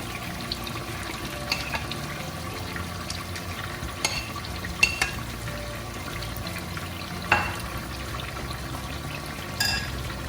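Chicken pieces fry with masala in a pot for Hyderabadi chicken biryani, giving a steady close sizzle with occasional stirring knocks and scrapes throughout.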